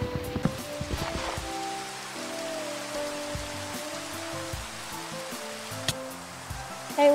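Steady rain hisses throughout in modded Minecraft, layered with sustained musical tones and occasional soft plinks of game ambience.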